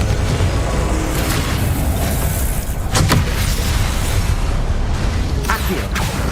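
Confringo explosive spell cast in Hogwarts Legacy on PS5, a loud, dense rumbling blast with sharp cracks landing over a continuous roar of battle noise.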